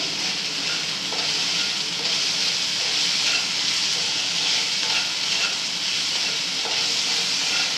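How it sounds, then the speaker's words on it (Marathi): Vermicelli sizzles steadily in a hot pan as it is stir-fried and tossed, a constant loud frying hiss with faint scraping. "ते पुन्हा एकदा सगळं असं परतून घ्यायचं"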